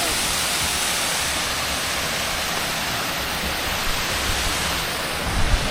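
Panwal waterfall roars as a steady, loud, close wash of rushing water that never lets up, with a few slightly louder surges near the end.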